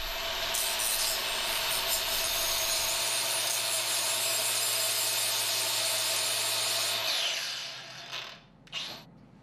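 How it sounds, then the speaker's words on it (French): Grinding wheel deburring the cut end of a steel tube, a loud continuous harsh grinding whine close by that runs steadily for about eight seconds before winding down, followed by brief scrapes. "Nous enlevons encore les bavures avec une meule afin de commencer à partir d'une extrémité lisse."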